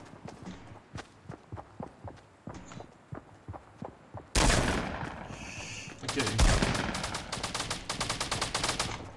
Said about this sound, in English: Oh shit, just people shooting at me.